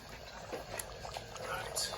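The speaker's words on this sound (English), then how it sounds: "It's bubbling away nicely." A pot of chilli con carne bubbles on the stove, soft continuous blipping and popping of thick simmering liquid, close and fairly quiet, with a voice talking over it.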